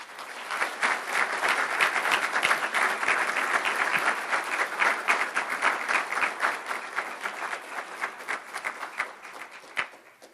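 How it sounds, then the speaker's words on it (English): An audience at an award ceremony gives sustained, vigorous applause, a thick crowd of clapping hands holding steady for several seconds before thinning out and trailing off at the end. "let's give a warm round of applause to Mariana Vakaki and Nick"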